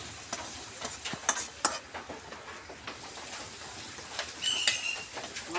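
Tengra fish are stir-fried in hot oil for a curry with arum root and eggplant, a close crackling sizzle with repeated spatula scrapes and clicks against the pan, without any talking.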